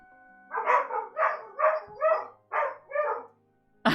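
A run of seven loud, close dog barks in a steady rhythm, set off by warning sirens being tested nearby, followed by a sudden sharp sound at the very end.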